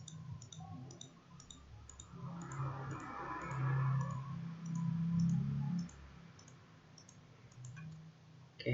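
Faint, scattered mouse clicks while working in 3D design software on an industrial electric motor model, soft taps spread across a quiet room tone with a low hum in the middle, no talking.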